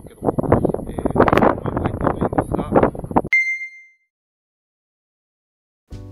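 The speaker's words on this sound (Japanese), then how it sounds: "今風も吹いてますが、どんな感じでしょうか。" Wind buffets the built-in microphone of a Feiyu Pocket 3 action camera outdoors, a dense gusting rumble under a man's speech for about three seconds, then a bright ding, silence and a brief final burst.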